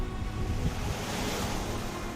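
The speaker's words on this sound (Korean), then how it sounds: "끊임없이 저 밀려오는 이 파도들의" East Sea surf breaks steadily on the shore, a broad continuous wash of waves with some wind noise and no voices.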